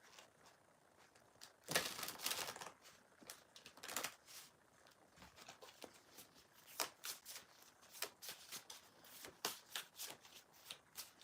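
A deck of Marcellus Tarot cards is shuffled by hand, producing crisp riffling bursts and flicks, loudest near the start, then a run of quick, irregular snaps and taps continuing throughout, with no voice.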